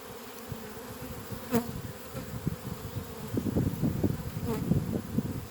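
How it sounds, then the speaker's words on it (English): A dense, steady insect drone of many honeybees humming together inside a hive, close by, with faint clicks and shuffling beneath it and no voices. "There's lots of young bees in there"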